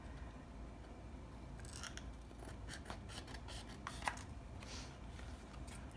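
Scissors snip through scrap paper to trim a notebook insert to the cover's size, a run of close, crisp cutting strokes after a brief quiet start, with no voices.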